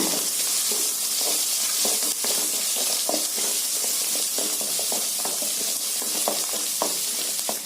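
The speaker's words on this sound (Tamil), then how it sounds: "இதையெல்லாம் சேர்த்து நல்லா பொன்னிறமா வதக்கி விடுங்க" Sliced onion, broken dried red chillies and curry leaves sautéing in hot oil for spinach poriyal, with a loud, steady sizzle and hiss throughout and the scrape of a spatula stirring close by.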